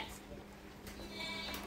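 Goats and sheep of rare breeds on a farm in Malaysia bleat faintly at a distance, a couple of brief high calls over a steady low background hum.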